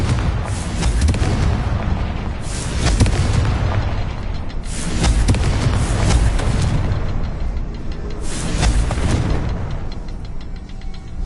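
Three big booming blasts from the Confringo spell in Hogwarts Legacy, spaced a few seconds apart over a constant loud rumbling game backdrop.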